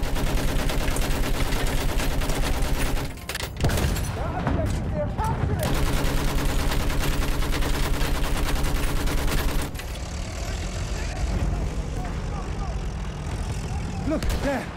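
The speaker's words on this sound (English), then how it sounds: "Enemy machine gun." Enemy machine gun fire rattles in sustained bursts in Battlefield 1, dense and loud amid other gunfire and a droning propeller aircraft, with a brief lull before the firing resumes more distantly.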